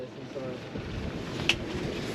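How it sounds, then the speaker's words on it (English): Wind gusts across a small fishing boat anchored offshore on a cold day, a steady broadband rush with a brief sharper buffet midway, low and continuous with no talk. "Windy this side."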